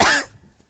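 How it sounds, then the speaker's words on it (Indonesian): An audience member at a dawn religious lecture gives a single sharp, close cough that lasts a fraction of a second and then fades into quiet. "Nah, sampai batuk tuh."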